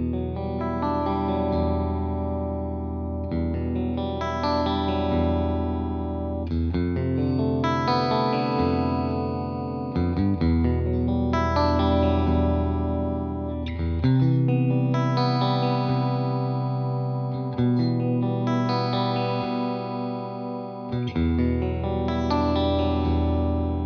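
An electric guitar, a Vox Bobcat S66 or V90, plays sustained, heavily distorted chords through a loud amplifier cranked with no attenuator, thick and saturated with a chorus-like shimmer.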